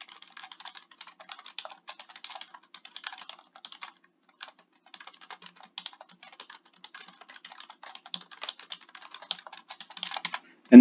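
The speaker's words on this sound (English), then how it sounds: "Type in a brief description." Typing on a computer keyboard, with rapid irregular key clicks in bursts and short pauses, close and fairly quiet, with no talking.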